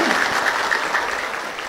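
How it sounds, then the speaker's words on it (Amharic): Audience applause after a sermon on church and bishops, a dense, steady wash of many hands clapping close and loud throughout, with no voices over it. "አጨብጭቡና ገለጹ።"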